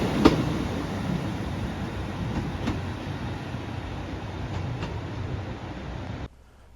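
A train running on rails, heard from inside with a steady low rumble and hiss of wheels, a few faint rhythmic clicks over joints, ending abruptly into quiet.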